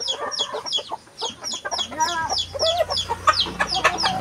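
Chickens cluck over one another throughout, a busy flock close by with dense overlapping calls and a low steady hum underneath.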